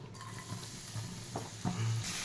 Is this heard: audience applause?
no